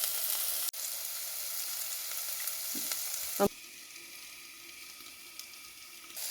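Two dried red chillies frying in hot oil with other whole spices give a steady, close sizzle, broken by a brief stir and a clink near the middle and ending with a softer, even crackle.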